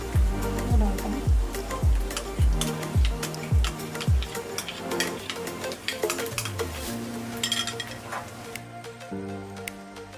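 A spoon clacks against a pan of butter chicken gravy as cream goes in, starting with a run of sharp, evenly spaced knocks and then a quieter bubbling simmer with faint scraping, close by and without talk.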